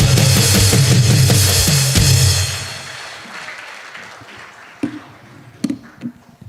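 A congregation-style audience claps loudly at the close of a sermon on Korea, the dense burst fading out after about three seconds, leaving a few scattered thumps and handling noises.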